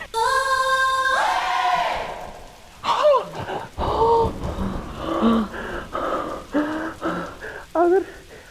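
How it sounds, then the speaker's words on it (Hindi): Rain patters steadily through a stormy scene with a low thunder rumble near the middle, partly covered by people talking over it. "जब तक ये तूफान थम नहीं जाता"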